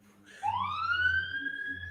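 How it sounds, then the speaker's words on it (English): A police siren rises and then holds a steady, bright wail for close to two seconds. It is loud and close, over a low background rumble, and no one speaks. "I got a siren."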